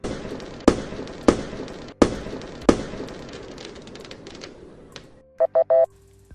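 Pyrotechnic blasts at a wrestling entrance: four sharp, loud bangs spaced about half a second apart over a crackling wash, then three short electronic beeps.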